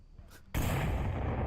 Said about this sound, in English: Plenus taking some suppressive fire, and not a fan